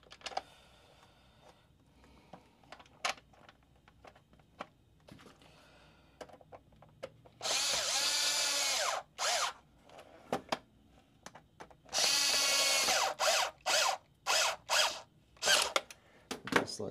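A power drill driving screws back into a part on a 1993–1997 Toyota Corolla, with two sustained whirring bursts separated by a pause and surrounded by scattered clicks and handling noises, with no talking.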